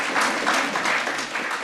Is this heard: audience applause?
yes